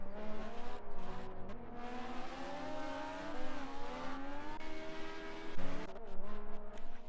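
LMP prototype race cars speeding down the Silverstone straight in a racing game, a continuous high-pitched engine whine that rises and shifts with gear changes, loud and close, no voices.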